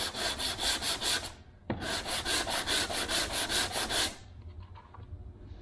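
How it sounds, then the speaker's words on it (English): Hand sanding of body filler over a repaired car dent, rapid rhythmic back-and-forth rasping strokes, loud and close, with a brief break and then a second burst before it stops. "let's just sand over this with this, just to see what it did"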